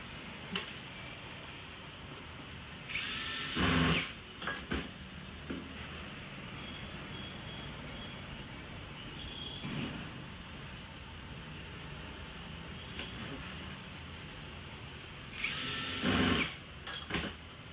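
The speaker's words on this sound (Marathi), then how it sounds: "साईडला 2 स्क्रू टाईट करून घ्यायचे" A power drill tightens two screws at the side of a mounting strip, with two short, loud whirring bursts separated by a long stretch of quiet handling noise and faint background hum.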